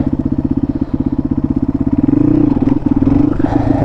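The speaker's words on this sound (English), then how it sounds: "this bike will pick up its front really easily. I mean, that's very few revs." An XT motorcycle engine revving as it lifts into a wheelie, close and loud, with a rapid pulsing idle that climbs into a steady higher rev.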